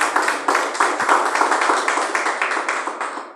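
Church congregation clapping for Jesus during a service, a steady run of rapid, overlapping handclaps from many people filling the room, moderately loud and close, with no talk over it.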